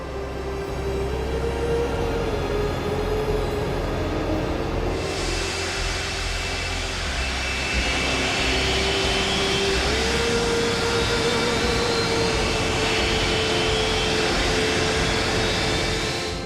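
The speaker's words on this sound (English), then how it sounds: "Request permission to carry out a high-power ground run. OK, going up on 1 and 4." Jet engines one and four on a large aircraft run at high power during a ground test on an airport runway, a loud, steady roar with a rising whine from about five seconds in, continuous and close throughout.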